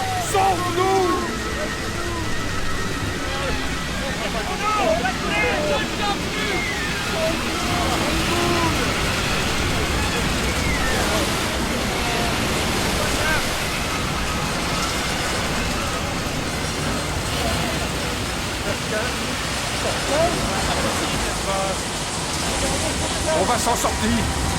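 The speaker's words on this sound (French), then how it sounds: "Les vagues sont trop fortes!" Loud, continuous roar of churning water, like heavy waves in a storm at sea, filling the whole stretch without pause.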